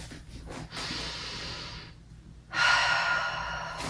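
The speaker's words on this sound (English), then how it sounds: "Take a breath." Slow deep breathing while resting on a mat between Pilates exercises, with two clear airy breaths, a long inhale followed by a strong exhale, close and fairly quiet, with no talking.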